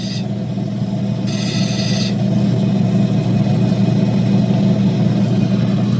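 A diamond wheel grinds opal against a loud, constant motor hum, with a short burst of harsh, gritty grinding early on.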